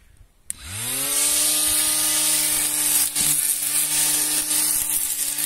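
A small handheld grass trimmer starts up and runs continuously at a steady high-pitched whine, cutting grass along a fence, loud and close with no talking.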